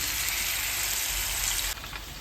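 Marinated hamour fish pieces sizzle steadily in hot oil, a dense, close frying hiss that drops slightly in level near the end, with no voices over it.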